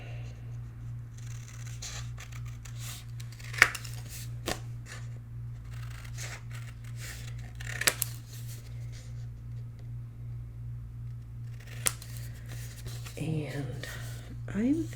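Scissors snip through paper or card to trim corners, a few sharp cuts spaced out, close and quiet over a steady low hum, with brief rustling of the material being handled.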